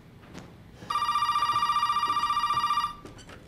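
Phone ringing in the video game Resident Evil 7, a single sustained electronic ring of about two seconds with a buzzing warble, starting abruptly and cutting off cleanly amid quiet game ambience.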